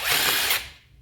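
A short, loud whirring burst from an Ozito 18V three-speed 400Nm cordless impact wrench, spinning for about half a second before winding down and fading out.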